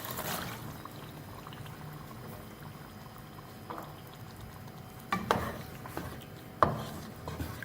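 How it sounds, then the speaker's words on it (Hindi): Boiled chickpeas tipped into a pan of fried yogurt and spice masala for Lahori cholay, giving a soft pouring rustle and low sizzle, with a couple of sharper clanks of a spoon or pan near the end. "अब इसमें उबले हुए चने डाल देंगे"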